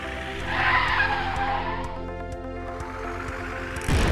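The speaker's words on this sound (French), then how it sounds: "Oh non, le pneu a explosé." A cartoon bus has a tire blowout and skids with a loud, sustained screech and squeal of rubber across the road. A brief thud lands near the end.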